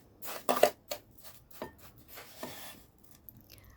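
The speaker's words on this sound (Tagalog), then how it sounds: "Tapos, haluin." Abalone and chicken wings are stirred in a pan, giving a handful of sharp scrapes and knocks of a utensil against metal, spaced irregularly, close and fairly quiet, with no talking.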